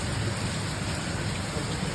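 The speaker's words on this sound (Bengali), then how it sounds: "এই যে দেখো কিভাবে বৃষ্টি পড়ছে মুষলধারে" Heavy monsoon-style rain pouring down hard in gusty wind, a dense, constant roar of drops on surfaces with no pauses.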